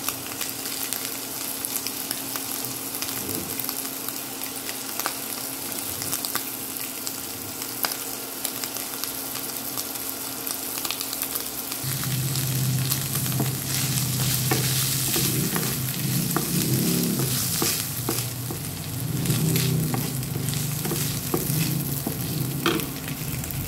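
Beef and boiled potatoes sautéing in a pan give a continuous sizzle with scraping stirs, growing louder and fuller partway through, with no talking.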